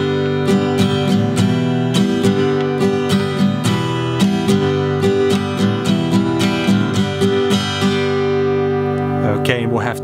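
Acoustic guitar intro of a song, tuned down a half step as on the unplugged version, played as a steady, close, ringing picked riff with no talk over it.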